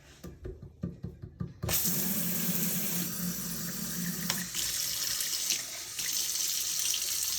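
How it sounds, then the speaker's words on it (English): A kitchen tap runs into a container to rinse out the last of a sauce. A few knocks and handling sounds come first, then a steady rush of running water continues to the end, and no one speaks. "I'm even gonna add a little bit of water"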